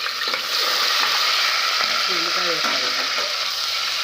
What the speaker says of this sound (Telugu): ఇవి బాగా ఫ్రై అవ్వనివ్వాలండి, బ్రౌన్ కలర్ వచ్చేదాకా